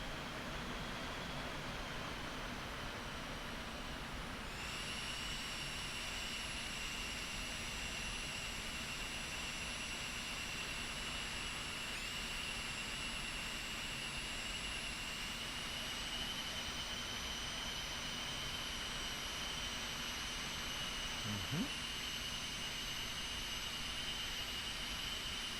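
Eclipse 550 business jet engine in the X-Plane 11 flight simulator, throttling up from a steady whine to a higher, louder tone that holds evenly for a long stretch, with a constant rushing hum underneath.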